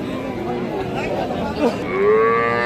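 A Sahiwal bull calf at a livestock market lets out a short rising moo near the end, loud and close, over the background chatter of the market crowd.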